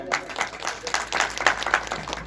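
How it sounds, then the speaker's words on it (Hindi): Applause at an indoor celebration event for a Hindi newspaper's staff, with a crowd clapping steadily and moderately loud for a couple of seconds. "इनके लिए जोरदार तालियां।"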